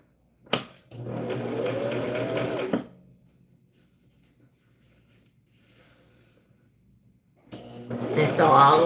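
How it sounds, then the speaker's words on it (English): Sewing machine stitching organza ribbon onto a tulle tutu, two close bursts of rapid whirring, one near the start and one at the end, with quiet in between and someone speaking. "So now I'm just going to sew all the way down. Make sure to back stitch."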